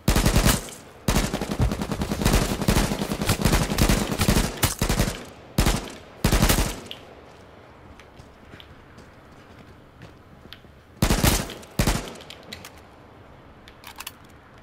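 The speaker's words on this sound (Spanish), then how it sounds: "Tiros por aquí." Machine gun fire in the video game H1Z1 comes in loud, rapid bursts close by, a long rattling volley followed by a few shorter bursts separated by quieter stretches.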